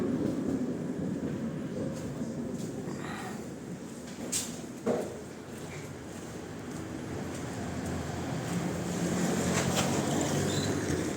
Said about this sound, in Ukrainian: едет прекрасно, работает наш мотор.